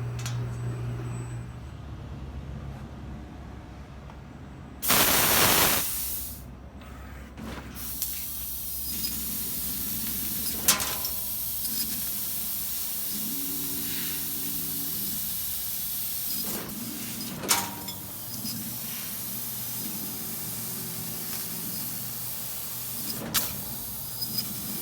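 A laser cutter slices metal gussets in a fabrication shop, giving a loud burst of hissing spray around five seconds, then a low steady hum with sharp ticks and brief hisses as cuts start and stop.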